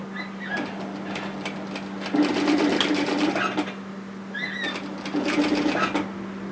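A sewing machine stitches through a varsity bomber jacket seam, running in two bursts with short back-tack reversals, a steady motor hum beneath the rapid, close needle clatter.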